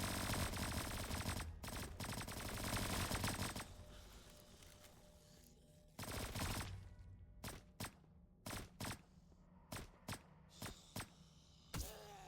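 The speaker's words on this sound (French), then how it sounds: "Quand je tire une balle, ça en tire une autre." A gun fires bullets in a Roblox video game. Dense rapid automatic fire comes first, then a string of separate sharp shots at uneven intervals, loud and close with no talk.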